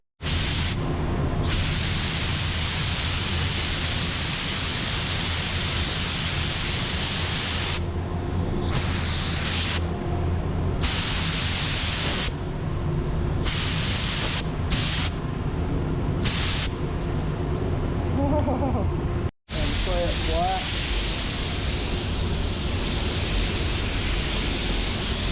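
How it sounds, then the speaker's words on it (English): Spray gun laying down base clear paint on Jeep CJ7 parts in a school paint shop, a steady loud continuous hiss broken by short pauses as the trigger is released, with one brief full stop near the end. "let you watch some of the high school students spraying base clear paint on this"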